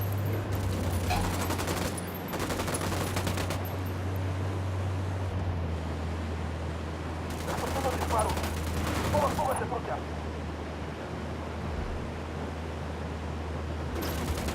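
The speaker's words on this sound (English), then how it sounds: "I'm opening fire." Bursts of automatic gunfire in the Ghost Recon Wildlands video game, loud and sustained in two long volleys with a steady low engine-like drone underneath and occasional radio voices.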